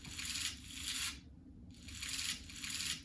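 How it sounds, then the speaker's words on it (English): Chopped, edited percussion loop in a future bass EDM track: bursts of bright, noisy rasping texture, like scraped or rubbed hits, alternating with short gaps over a steady low-end bed. "Then I have this cool percussion sound that I chopped up and edited"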